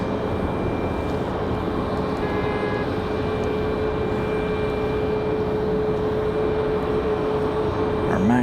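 Boeing 737 MAX 8 departing Raleigh Durham International Airport, a steady loud jet engine roar with a faint high whine, continuous and fairly close.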